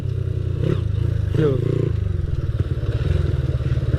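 Motorcycle engine revving as the rider opens the throttle in first gear with a sticking clutch, a steady low idle rising briefly into a throaty rev, close up, with someone speaking over it.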